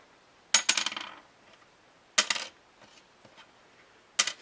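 A Tusq guitar saddle is dropped onto a hard surface in a drop test three times, each landing a sharp, bright clatter with quick bounces that die away, close and isolated against near silence.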